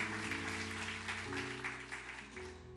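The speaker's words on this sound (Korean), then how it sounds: "환영과 축복의 박수 한 번 더 부탁드리겠습니다" At Suwon Onnuri Church, the congregation gives a soft round of applause to an elder, the clapping fairly quiet and carried over steady sustained musical tones.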